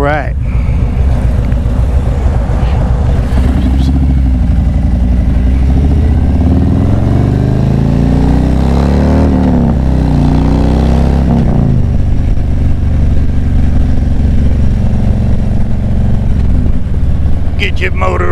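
Bagger motorcycle engine running during a road ride, a loud close rumble that rises and falls as the throttle works, with a voice talking over it in places.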